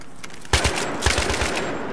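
Bursts of automatic gunfire from a weapon in the video game Battlefield 3, two loud volleys of rapid shots about half a second apart, each trailing off into an echoing rattle with no voices.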